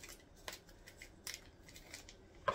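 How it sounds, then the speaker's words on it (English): A few quick, crisp snips of scissors, spaced irregularly, close and fairly quiet with no talking. "Then we're going to use my kitchen scissors that Lisa got me."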